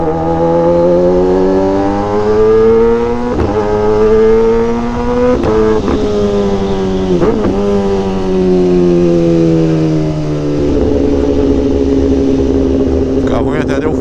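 A motorcycle fitted with a new AC Exhaust tip revs loudly and up close, recorded from the back seat, its engine note rising and falling through several throttle pulls before settling into a steadier drone.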